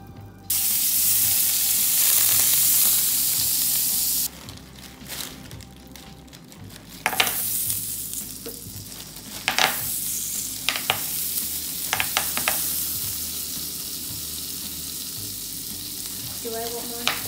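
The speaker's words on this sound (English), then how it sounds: "I'm making Brussels sprouts and watching Mia Stammer in the kitchen. And I'm just using the butter first." Brussels sprouts frying in butter in a home kitchen give a loud, steady sizzle at first, then a quieter crackling fry with intermittent stirring clicks and scrapes.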